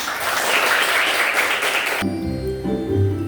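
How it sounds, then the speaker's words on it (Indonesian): Classroom clapping as a teacher leads pupils before a patriotic song, a dense burst of hands for about two seconds that cuts off abruptly into sustained singing or music. "Tepuk tangan dulu dong untuk kita."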